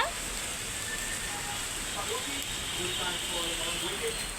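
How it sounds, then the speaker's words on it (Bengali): Heavy rain falling outside, a steady dense hiss of downpour that runs throughout without pause, heard alone at moderate distance. "বাহিরে প্রচুর বৃষ্টি হচ্ছে"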